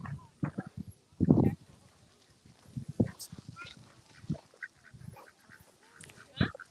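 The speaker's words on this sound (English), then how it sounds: "I love ducks, they're funny." Ducks at Talkin Tarn quack in scattered bursts, close and fairly loud, while people talk intermittently nearby.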